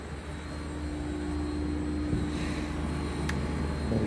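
An LG Dual Inverter window air conditioner running at 50 hertz, giving a steady, full droning hum with a faint whine on top, loud and constant, with a small tick near the end.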